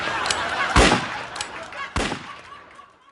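Gunfire in the Free Fire battle game during a headshot kill: two sharp, loud shots about a second apart over faint background game noise.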